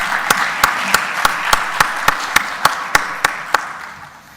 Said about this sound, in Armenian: Ծափարենք պարոն Սիմոնյանին, եթե դեմ չեք։